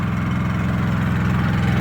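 A Honda EU3000is inverter generator fitted with a new aftermarket carburetor runs steadily at close range, a continuous low, even engine hum with a fine pulsing rhythm and no talk over it.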